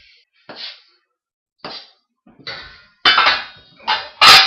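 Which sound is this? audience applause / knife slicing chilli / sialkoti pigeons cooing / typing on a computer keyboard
knife slicing chilli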